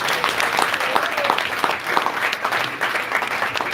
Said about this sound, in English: can you please give a round of applause for the panelists here today?